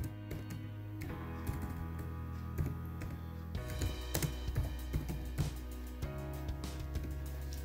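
Typing on a computer keyboard, heard as a steady run of quick, close clicks and taps with slight variations in rhythm, playing over a constant low electronic hum and with no voices.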